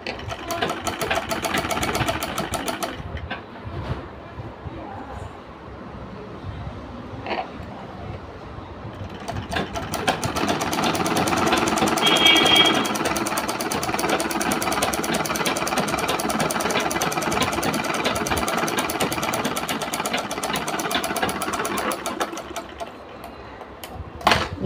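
A sewing machine stitches fabric in a fast mechanical whir, running in bursts with short pauses, close and moderately loud, with no talk over it.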